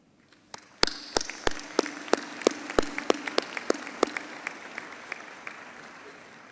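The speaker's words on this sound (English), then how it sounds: "request all in attendance, parents and friends, to give you a big round of applause." Parents and friends at a university graduation ceremony applaud the graduates: a few scattered hand claps quickly build into a fuller round of applause that tapers off, heard from a distance in a large hall.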